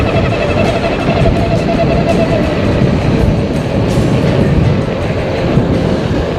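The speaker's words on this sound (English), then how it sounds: "The motor starts to sound funny." Blix Vika X foldable electric bike motor running at top speed, a loud steady whirring drone with rushing wind and rattling texture, continuous and close, with no talking.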